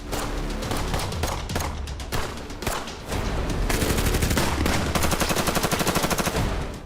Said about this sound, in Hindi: जैसे गोलियां चल रही थी